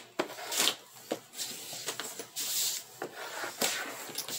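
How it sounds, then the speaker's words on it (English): Edges of a paper coaster box being burnished, soft close scraping and rubbing strokes repeating in an uneven rhythm, fairly quiet and without speech. "I like to flip it over and burnish on this side too"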